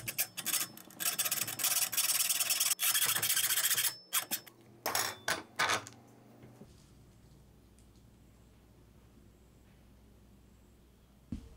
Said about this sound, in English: Next, I will cut that hole using my hacksaw,